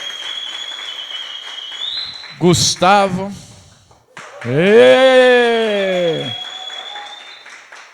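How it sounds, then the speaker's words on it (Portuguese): Steady applause from a church congregation fills the clip, with a person speaking briefly over it partway through. "Você pode aplaudir o Senhor."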